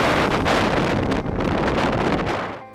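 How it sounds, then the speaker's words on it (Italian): Fierce, cold wind gusts pour down a glacier in Patagonia on a March afternoon, roaring loudly and steadily into the microphone with buffeting rumbles, then easing off at the very end. "le raffiche di vento che si raffreddano ulteriormente scendendo lungo il ghiacciaio sono davvero feroci"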